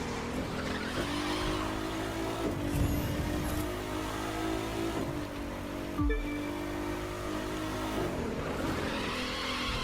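In the video game The Crew 2, a car slides under the handbrake with a continuous engine drone and tire skid noise, a sharp thud partway through, and no talking.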